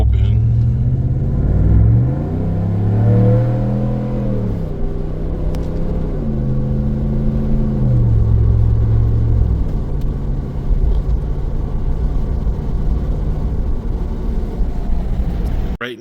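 A Ram 1500 DT pickup with TRX exhaust tips, a Flowmaster Dual Mode muffler and resonators kept, cruising at 60 mph with a window open: a steady low engine drone that rises and falls in pitch, then settles into road rumble.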